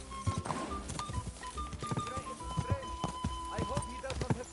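Horse hooves clip-clop steadily in the game Kingdom Come: Deliverance 2, with an occasional whinny, under continuous talking.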